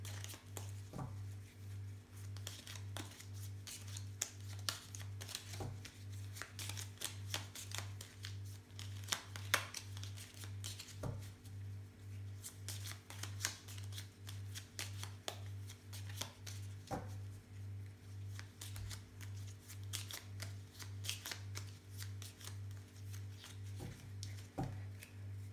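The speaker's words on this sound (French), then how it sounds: "maintenant, je vais mélanger le Piatnik" Piatnik tarot cards are shuffled in a quiet, faint series of soft riffling and tapping sounds that continue rhythmically for a long stretch over a low steady hum.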